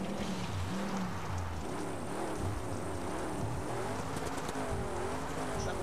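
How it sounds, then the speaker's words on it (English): A rally car in the Dakar 18 off-road racing game with failing brakes spins out, its engine revving and whining up and down in wavering sweeps under a constant gritty roar of wheels on terrain, fairly faint. "So the brakes are so dodgy now, they just spun me around."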